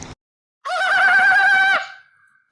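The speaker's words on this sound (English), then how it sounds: "Oi! That's a kookaburra, bro." A kookaburra gives a single loud, close call, a warbling, cackling burst lasting about a second that trails off quickly, with no talk over it.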